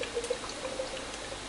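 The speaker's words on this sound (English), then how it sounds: "So here's a pour of the Crown." Sainsbury's Crown Lager, a 4% English supermarket beer, pours into a glass with a short, steady liquid splash and gurgle, close up and brief, with no talking.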